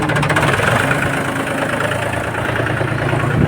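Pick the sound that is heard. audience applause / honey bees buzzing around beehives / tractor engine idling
tractor engine idling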